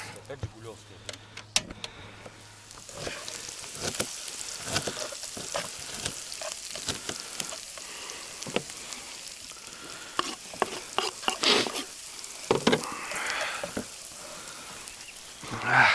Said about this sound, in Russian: Быстро сейчас яиц пожарим.